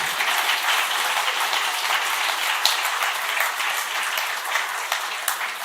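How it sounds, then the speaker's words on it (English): A crowd at a competitive programming world finals event in Baku gives steady, sustained applause for contestants, a continuous wash of clapping held at an even level throughout. "Huge round of applause, please,"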